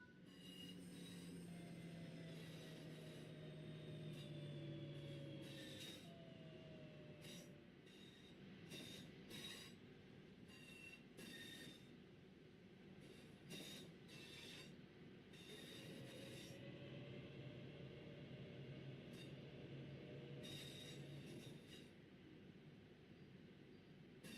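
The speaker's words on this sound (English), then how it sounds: "Now that you've moved down the track, it's time to bring the train to a stop" A train in a video game rumbles steadily along the rails with long squealing wheel and brake tones as it brakes to a stop, slowing over the whole stretch; continuous, close, no talking.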